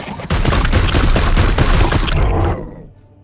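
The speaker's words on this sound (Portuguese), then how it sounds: "A gente precisa matar 10 inimigos com arma de longo alcance, hein?" Long-range weapons fire in the video game Warhammer 40k: Chaos Gate - Daemonhunters: a loud, dense burst of rapid shots lasting over two seconds, then fading out quickly.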